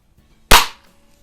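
A single sharp crack from a Benjamin Trail NP or Daisy Model 62 nitro piston air rifle, loud and close, decaying quickly into silence.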